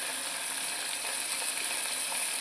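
Chicken liver pieces frying in a pan, a continuous even hiss of hot oil sizzling close by with faint crackles throughout.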